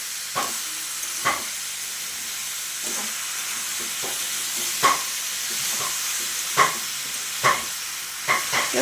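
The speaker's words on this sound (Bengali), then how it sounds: "নুন হলুদটা দিয়ে আমি নাড়া দিয়ে দিচ্ছি এই তরকারিটায়" Ash gourd curry with salt and turmeric is stirred in a pan under a soft, constant sizzle, with scattered scraping clacks of the spoon at irregular intervals.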